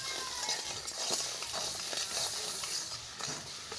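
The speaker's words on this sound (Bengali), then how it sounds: "আর চিড়া দেওয়ার পর ভালোভাবে নাড়া দিতে হবে" Fried flattened rice is stirred into sticky melted jaggery in a pan, giving soft continuous scraping and rustling with a faint sizzle, quiet and close, with no voices.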